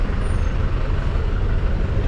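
Busy street traffic on Garlic Line in Bali, trucks rumbling steadily with a brief high air-brake hiss near the start, the low engine drone loud and close throughout.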